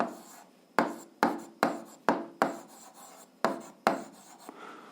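Pen strokes scratch across paper as a maths solution is written out, about eight quick, close scraping bursts separated by short pauses.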